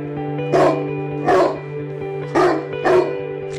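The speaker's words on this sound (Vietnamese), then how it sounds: "con chó nó cứ sủa hoài" A cartoon dog barks four times in two quick pairs, loud and close, over a steady musical hum in the background.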